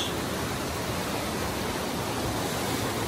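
A river rushes beneath a bamboo-and-timber bridge hung on side cables along Nepal's Annapurna Circuit, giving a loud, steady, unbroken roar of flowing water with no voices.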